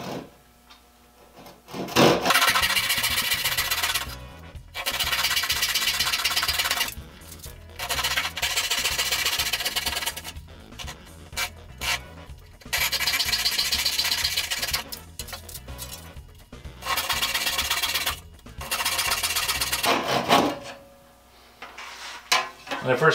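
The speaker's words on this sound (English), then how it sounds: "that little saw works so nicely" A small back saw cuts through wood held in a clamp, the steady rasping strokes coming in repeated runs of several seconds separated by brief pauses, close and clear.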